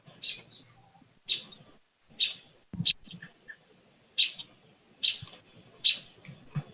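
Birds chirp outdoors during an online town planning board meeting, short high calls repeating about once a second at moderate distance, heard faintly through a computer microphone.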